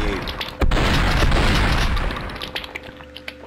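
A single loud gunshot in a video game bursts out suddenly, followed by a rumbling tail that fades away over a few seconds.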